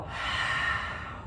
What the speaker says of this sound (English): Inhale through the nose. Exhale, let it go.